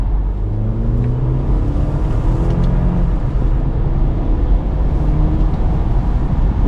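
A 2014 Audi A5 Convertible 2.0T, fitted with an 8-speed transmission, accelerates with a steady, loud engine drone and road rumble that runs unbroken through the whole stretch, rising gradually with no voices over it.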